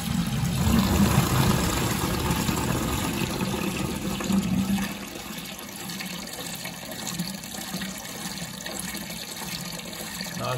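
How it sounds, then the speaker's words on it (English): A toilet cistern is flushed and then refills through an adjustable fill valve with a pressure reducer, fed by an electric pump. A loud rushing flush gives way to a steady, slightly quieter hiss of water filling the tank, with no talking. "Let's flush. See if it fills, how much noise it makes."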